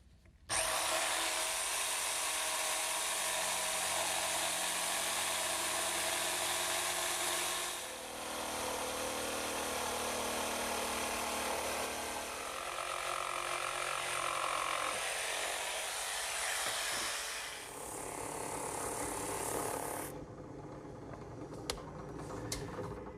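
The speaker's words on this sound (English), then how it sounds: "I think I'll just use my handheld jigsaw to cut out that toe space." A handheld jigsaw cuts a toe space out of wood in a woodworking shop, buzzing loud and close in a long continuous run with slight shifts in pitch as the blade works, then stops near the end, leaving faint clatter.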